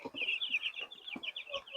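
Broiler chicks in a batch being hand-fed peep and chirp in quick repeated high calls, a near, steady stream of cheeping with a few soft low clucks underneath.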